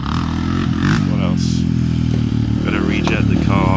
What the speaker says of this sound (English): It's such a raw, aggressive bike. I love it. It's way too loud.